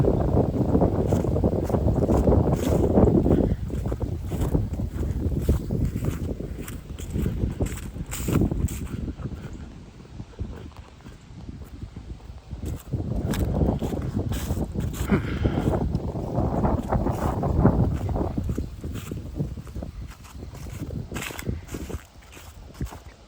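Breezy November wind gusting through the woods on a park trail hike, a steady rushing roar that swells and eases in waves, loud and close with some microphone buffeting.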